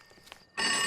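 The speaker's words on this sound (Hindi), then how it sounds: "पापा का फोन।" A telephone starts ringing at home, a bright electronic trill that cuts in abruptly after a moment of near silence and continues loudly to the end.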